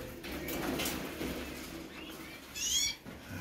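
Caged birds, including North African finches, inside an indoor bird room: soft cooing and chirps close by, with a sharp higher call near the end over low room noise.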